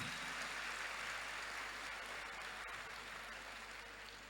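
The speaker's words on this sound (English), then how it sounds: "A clap for her, please." An audience at a youth empowerment summit in Accra claps for a special guest, a steady, distant wash of applause over a low hum, fading slightly toward the end.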